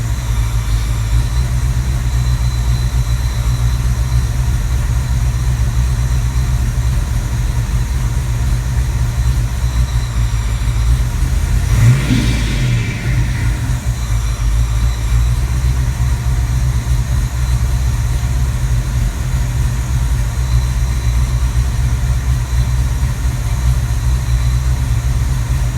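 A Clevor (Cleveland-block Windsor) car engine fitted with homemade DIY exhaust headers idles steadily after its first startup, a loud, even low rumble with a brief passing whoosh near the middle.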